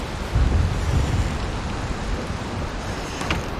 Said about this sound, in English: It's a bit loud out there. The storm's really whipping up.